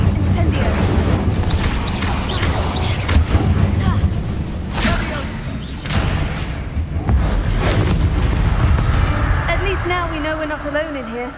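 An Incendio fire spell cast in Hogwarts Legacy, a whooshing burst of flame with booming impacts amid dense game sound, with a person talking over it.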